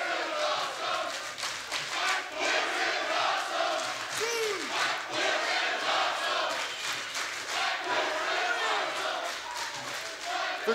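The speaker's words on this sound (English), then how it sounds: "We've got a Fight Forever chant and a This Is Awesome chant going on at the same time." A pro wrestling crowd in an Atlanta arena at an IMPACT show chants two overlapping rhythmic chants at once, a loud, rolling roar with cheers and thuds, while commentators talk over it.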